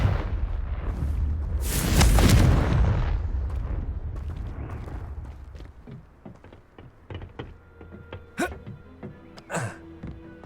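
Confringo fire-blast spell explosions in Hogwarts Legacy, a heavy booming burst early on that rolls off into rumbling, followed by smaller bangs and clatter and brief character voices.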